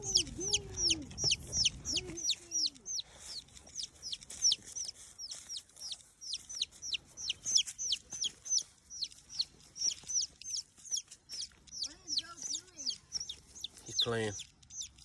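Chickens cluck and squawk in a yard, a rapid run of sharp, close calls filling the scene, with a person's voice briefly in the background.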